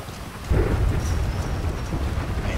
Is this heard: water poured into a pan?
no